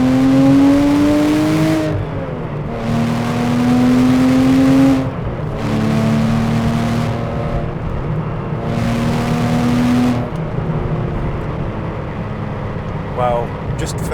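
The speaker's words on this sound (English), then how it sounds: "hear the exhaust and see what it sounds like" A Porsche Cayman 987 S in second gear revs hard through several rising pulls, its exhaust note climbing in pitch and dropping at each shift, loud and close with a steady engine drone between bursts.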